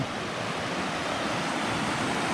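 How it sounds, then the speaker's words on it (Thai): Loud, continuous rushing river water flowing past a beach toward a dam fills the scene with a dense, steady roar, with no pauses. "โอ้ยเสียงดังเสียงน้ำดังมาก"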